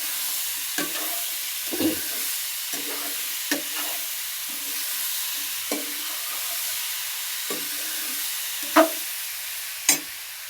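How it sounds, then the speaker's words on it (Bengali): Vegetable curry with spices and chilies stirred in a pan, a soft steady sizzle broken by about ten separate scraping strokes of a spoon across the pan, close and unhurried. "তরকারিটা নেড়ে চেড়ে এখন দেখি মশলাগুলো মরিচ সবজিগুলো করে নেবো।"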